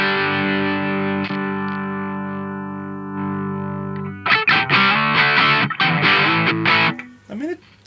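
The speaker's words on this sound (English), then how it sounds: "That's a Super Feedbacker and Distortion DF-2 by Boss from the year 1986." Electric guitar played through a 1986 Boss DF-2 Super Feedbacker & Distortion pedal: a long sustained distorted chord ringing out, then a burst of choppy, gritty high-gain strums ending in a squealing note.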